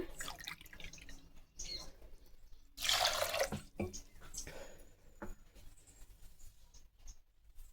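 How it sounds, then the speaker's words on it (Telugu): A burst of water poured into a metal pressure cooker for about a second, with quieter clinks and handling sounds before and after. "ఇప్పుడు కావాల్సినంత నీళ్ళు పోసుకుంటాము."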